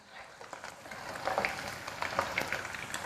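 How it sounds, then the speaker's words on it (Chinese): Meat slices deep-frying in hot oil over high heat, a dense continuous sizzle and crackle with scattered pops, steady and close, no voices. "肉片下锅大约炸1分钟"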